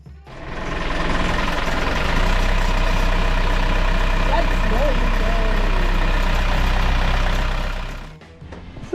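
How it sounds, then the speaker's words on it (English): An old 40-year-old diesel engine on a boat runs steadily at idle, a loud continuous throbbing rumble with a knocking quality that holds for about eight seconds before cutting off. "we next attended to our trusty 40-year-old diesel engine"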